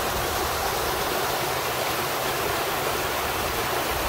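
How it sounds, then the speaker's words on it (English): Constant, dense rush of falling water, loud and unbroken, like a waterfall heard from nearby. "So the waterfall coming down here, and then got a little bit of water coming through"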